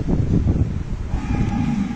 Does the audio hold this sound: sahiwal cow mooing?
yes